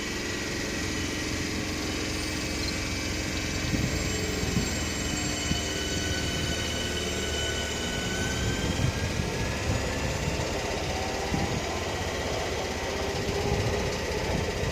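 A Southeastern electric train pulls away from Belvedere station with a steady electric whine and rumble, close and continuous, its pitched tones slowly shifting as it gathers speed.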